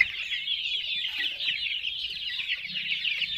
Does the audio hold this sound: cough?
no